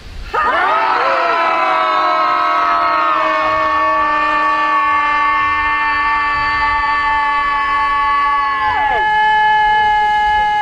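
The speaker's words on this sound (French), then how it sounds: "Juste un cri de libération" A group lets out one long, loud collective shout during a ritual of liberation from memories tied to slavery, voices held in a sustained sonorous cry for about nine seconds before breaking off abruptly, with a few voices lingering.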